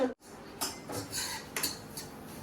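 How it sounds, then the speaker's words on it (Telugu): Fried semolina scraped and scooped from a pan into a bowl with a metal spoon, a series of soft scraping and clinking strokes, close and fairly quiet, with no voices. "ఫ్రై అయిన రవ్వని మనం స్టవ్ ఆఫ్ వేసుకొని ఒక బౌల్లో తీసేసుకున్నామండి"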